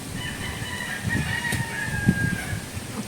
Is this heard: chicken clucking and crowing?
yes